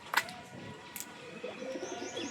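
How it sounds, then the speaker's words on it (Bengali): A fancy pigeon for sale, Kalankar or similar breed, utters a brief chirp-like call near the start and another soft one about a second later, over a low hum of the room. "এই হচ্ছে পায়রা"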